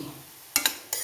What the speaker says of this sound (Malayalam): കൂട്ടി വെച്ച് നമുക്കൊന്ന് ഇളക്കി തോർത്തിയെടുക്കാം